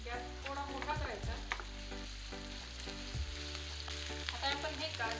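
Grated ginger and finely chopped garlic fry in a pan over high flame for a Manchurian dish, a steady close sizzle running throughout with occasional stirring scrapes, under background music.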